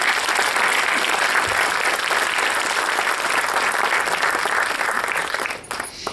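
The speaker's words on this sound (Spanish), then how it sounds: "Vamos a dar un fuerte aplauso al Señor por ello." A church congregation breaks into loud, continuous applause, a thick wash of many hands clapping that holds steady throughout and thins only briefly at the very end.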